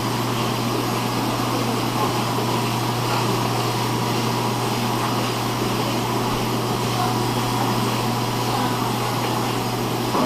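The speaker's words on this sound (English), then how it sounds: "grab the eggs and put them on the machine, get them rolling along" An egg processing machine rolls eggs along a conveyor in a steady, continuous mechanical whir with a constant low hum, close and loud throughout, with no talking.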